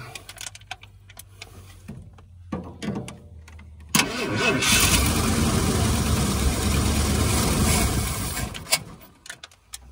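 An engine in a 1978 Ford Bronco Ranger XLT, not started in over 20 years, cranks with rhythmic chugging pulses, then sputters into a loud rough run for several seconds before fading as the battery dies.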